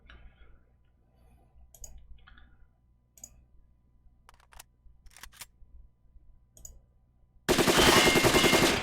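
A submachine gun in the Silent Storm video game opens up in a loud, rapid automatic burst near the end, preceded by scattered faint clicks and small mechanical sounds over a quiet background.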